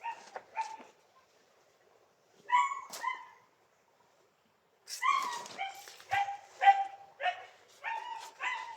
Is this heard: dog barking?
yes